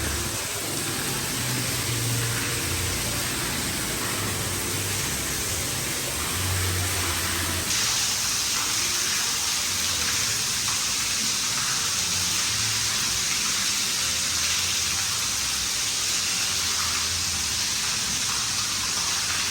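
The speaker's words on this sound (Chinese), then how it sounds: "突然又下暴雨了啊！" Sudden heavy rainstorm at a Jeju resort, a dense continuous roar of downpour that grows louder and brighter partway through, steady and enveloping with no talk.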